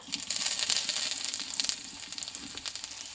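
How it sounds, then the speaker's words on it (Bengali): Crushed ginger fries in hot oil for a Bengali pea dal, a steady close sizzle with soft crackling and a faint scraping touch, fairly quiet and continuous. "এই আদাটা আমি একটু তেলে ভেজে নেব"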